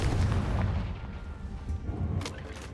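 A fiery Confringo spell blast in Hogwarts Legacy, heavy low booming rumble lasting throughout with a second burst near the end, loud and close with no talk.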